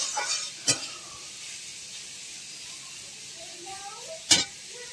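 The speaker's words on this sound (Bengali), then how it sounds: "তো ওখানে নেড়ে চেড়ে নেওয়ার পরে একটু ভালো করে ভাজা হবে।" Snake gourd frying and being stirred in a pan for an egg curry, a low steady sizzle with two sharp spatula scrapes against the pan, one near the start and one near the end, faint and close.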